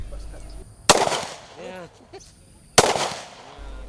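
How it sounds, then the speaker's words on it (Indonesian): Two sharp pistol shots ring out about two seconds apart during a police shooting exhibition in Aceh Besar, each a loud crack with a brief echo, with a short voice between them. "Kapolres sempat mengajak wakil bupati untuk melakukan eksibisi menembak dengan pistol"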